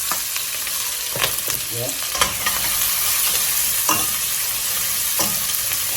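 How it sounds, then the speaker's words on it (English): Garnish sautéing in hot oil for Jamaican curry shrimp, a steady close sizzle with clattering stirs of a utensil in the pan and one brief spoken word. "I'm gonna saute this a little."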